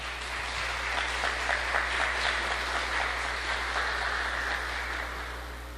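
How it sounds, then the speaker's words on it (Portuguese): A church congregation at a Portuguese-language worship service applauds, a dense, even roar of many hands clapping at a distance, sustained for several seconds over a low electrical hum. "dê uma linda salva de palmas, Senhor."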